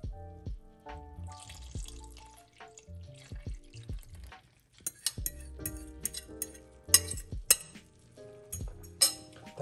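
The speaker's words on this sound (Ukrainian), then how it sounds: "І тепер переливаємо їх сюди в воронку." Yeast and milk mixture poured into a funnel for homemade bread, with close clinks of utensils and glassware, a trickle of liquid and scattered drips, quiet and alone.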